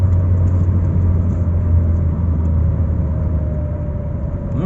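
A Citroën Xsara 16-valve engine rumbles steadily close by, its pitch rising slightly in a brief acceleration, with low whirring road-vehicle noise.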